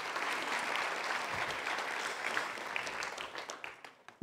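A roomful of people at an environmental monitoring conference in Uppsala applauds steadily, a dense wash of clapping that holds for several seconds and then thins out toward the end.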